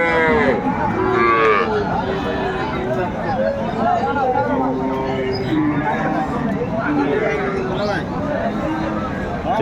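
Dairy cows and calves moo repeatedly over a busy crowd of voices at a cattle market in Cumilla, with overlapping low calls and steady background chatter throughout.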